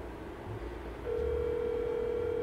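A phone call tone sounds as a steady, even electronic note. It starts about halfway through and holds without a break to the end, after a quiet stretch of faint room noise.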